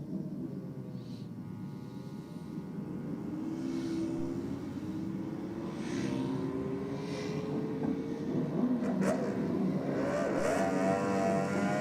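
Motorcycles drag racing down a strip, a steady engine roar that swells as the bikes accelerate away, heard from a distance with no talk over it.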